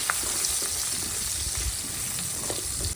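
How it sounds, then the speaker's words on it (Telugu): Onions with ginger and garlic fry in a pan for a fish masala curry, a close, steady sizzle with faint stirring scrapes throughout. "ఆనియన్స్ కూడా వేసుకోవాలి వీటన్నిటిని దోరగా వేయించుకోవాలి"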